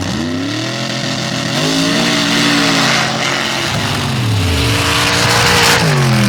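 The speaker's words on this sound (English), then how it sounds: "You see Carher backfire coming down the lane" A drag racing car at a Mid-West Race Association (MRA) finals event in the Open and Mods classes roars loud and close down the lane, its engine rising and sweeping in pitch for several seconds with rough popping of backfire.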